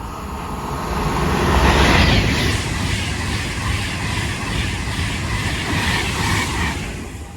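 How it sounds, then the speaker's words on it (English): A non-stopping train runs through a station platform in Cheshire, a loud sustained rushing roar that builds and holds, with a high whistling tone early on and no talk. "The train now approaching platform 1 does not stop."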